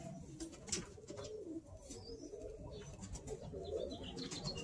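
Birmingham Roller pigeons cooing in a loft, soft repeated coos and occasional chirps layered over a continuous busy background murmur of many birds, moderately close and without speech.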